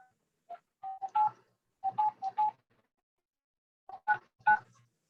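Telephone keypad tones sound while dialing into a Zoom meeting: several short beeps in three clustered bursts with pauses between, fairly quiet against near silence.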